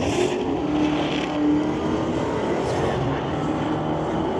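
A 2023 Dodge Charger drag racing at Mission Raceway Park during a Friday night street legal drags event, its engine a loud, steady continuous roar that stays near and full throughout with no gaps.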